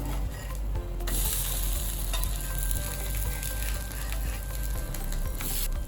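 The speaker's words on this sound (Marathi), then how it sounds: "आता खालची बाजू ही अशीच आपल्याला तांबूस रंगावरती भाजून घ्यायची." A sesame pancake fries in oil in a pan with a steady, close sizzle and crackle that continues throughout.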